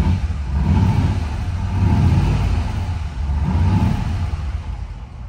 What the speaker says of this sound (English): I'm gonna give it a little gas.